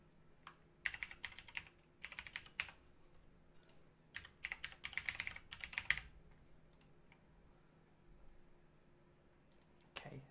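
Username and password being typed on a computer keyboard: quiet, close bursts of rapid key clicks separated by pauses, ending in a single sharper keystroke, all faint and free of talk.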